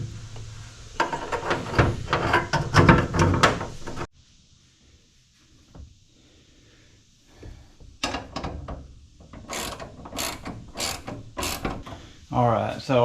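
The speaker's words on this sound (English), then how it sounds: "so you can tighten the bolt" A bolt is tightened on a Rough Country hood lift kit with a ratcheting tool, producing bursts of quick metallic clicks. A quiet pause breaks up two close, busy stretches of ratcheting.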